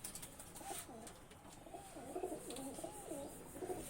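A male Kaldoma Madras pigeon coos close by in a repeated, rolling series that runs nearly the whole time over faint background noise.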